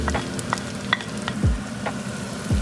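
Chopped onion hits hot garlic in a pan for a chicken liver and gizzard dish, giving a steady close sizzle with light utensil taps and a few stirring scrapes, with no voices.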